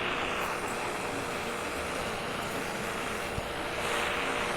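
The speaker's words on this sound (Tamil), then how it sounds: "இப்போ பாருங்கள், ஏரோப்ளேன் ஓட்டலாம்." An airplane engine in a video game drones steadily and evenly throughout, a continuous mid-level hum with no voices over it.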